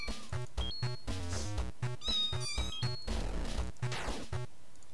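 A cartoon cat meows repeatedly in the video game Clumsy Paws, short bright calls over a bouncy game music track with rhythmic beats and chiming effects, fairly loud and up front.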